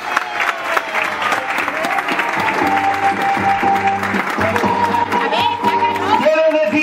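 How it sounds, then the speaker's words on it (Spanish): A crowd at a Christmas-season gathering honoring elderly people claps warmly, dense applause holding steady for several seconds while music plays underneath. "vamos a darle un fuerte y caluroso aplauso a estas personas"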